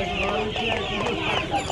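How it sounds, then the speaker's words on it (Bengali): Turkeys at a crowded poultry market in Uluberia give loud, overlapping clucks and gobbling calls close by, with other market noise around them. "এগুলো সবই টার্কি মুরগি।"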